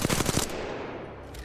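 Automatic weapon fire from Apex Legends, a quick burst of several close, loud shots in the first half-second that fades into a reverberant tail, with another faint hit near the end.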